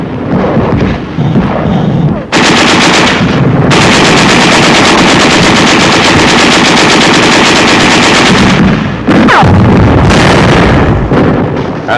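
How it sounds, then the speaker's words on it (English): World War II machine gun fire rattles in long, loud, dense bursts with occasional heavy artillery shell blasts, dominating the whole stretch with only brief pauses between volleys. "There is some machine gun fire and occasional shells"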